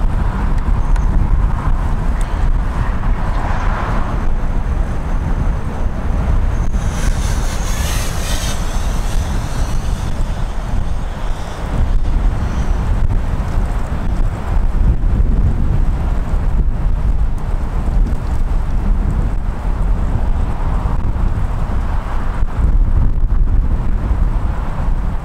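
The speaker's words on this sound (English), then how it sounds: "Oh man, this wind." Strong wind buffets an outdoor microphone at a drone flying spot, a constant loud low roar with gusty swells throughout and no voices.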